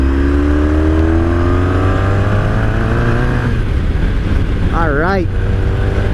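A 1983 Honda Sabre VF750S motorcycle accelerating in fourth gear on a test ride, its engine rising steadily in pitch under heavy wind roar before a brief rev change, with a short spoken word over it.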